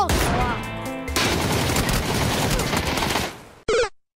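Gunfire in the battle royale game PUBG: a loud, dense volley of rapid shots rolls on for several seconds, then a short sharp final burst cuts off abruptly.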